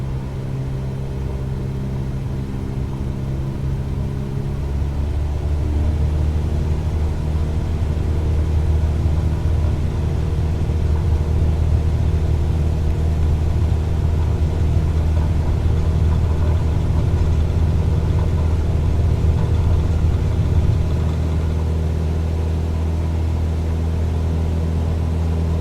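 Airliner engines spool up for a takeoff roll in Microsoft Flight Simulator, a steady droning hum that swells after a few seconds and then holds as a loud sustained roar, with no talk.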